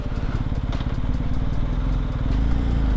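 A BMW R1250GS HP motorcycle with its boxer twin engine and an Akrapovic muffler rumbles steadily nearby, a throbbing, clattery exhaust pulse with faint crackles, with no one talking.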